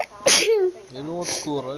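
A person gives a single sharp, loud sneeze near the start, followed by someone speaking casually right after.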